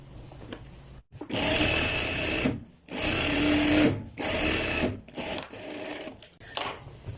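A sewing machine stitches pajama trousers in several loud, close, sustained runs of rapid whirring, each cut off by short pauses, with no talking.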